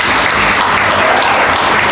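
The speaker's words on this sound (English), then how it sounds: "Let's give the Lord a big clap offering for him." A church congregation at a cowboy church service applauds, dense steady clapping from many hands filling the room loudly throughout.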